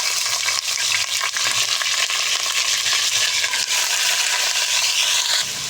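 Chicken frying in a pan with black cardamom, cloves and black peppercorns, a loud continuous close sizzle with intermittent stirring scrapes throughout, no voices.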